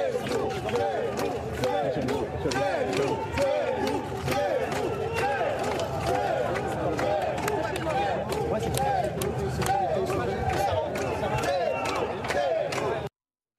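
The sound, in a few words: crowd booing and whistling at Éric Zemmour's arrival at cathedral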